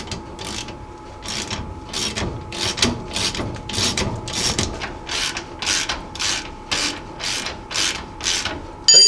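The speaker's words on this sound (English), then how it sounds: "So now I'm just going to take up the slack in these bolts, not tighten it and torque it down yet." A ratchet takes up slack in leaf spring bolts on a 1978 Jeep J10 during a lift install, making about a dozen regular bursts of sharp clicking strokes, close and clear with short gaps between them.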